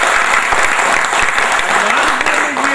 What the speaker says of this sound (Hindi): एक बार जोरदार ताली से हमारा स्वागत करिए।